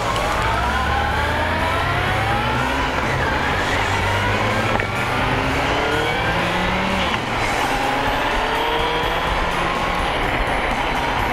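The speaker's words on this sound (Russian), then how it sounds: "сейчас вам подарю тест-драйв большого дорожного мотоцикла Honda 750-2K" A Honda CB750 motorcycle rides in the rain, its engine droning steadily and loudly throughout with shifting pitch as it accelerates, mixed with road and wind noise.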